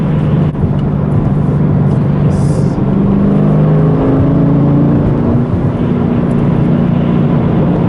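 Deep, steady exhaust drone from a 2014 Chevrolet Camaro SS 1LE running with its exhaust mode wide open, heard close and loud throughout with slight shifts in pitch as the revs change.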